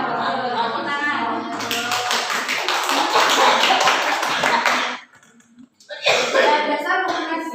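Students in a classroom during a microteaching lesson clap in a short, dense burst of applause, close by, following a teacher's voice and then giving way to a brief pause and more speech.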